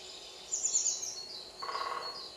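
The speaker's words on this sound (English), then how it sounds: "Does everyone know what kind of woodpecker that is?" Recorded call of a woodpecker made in Poland, a short series of high, sharp chirping notes followed by a brief rattling burst, played back faintly in a quiet room.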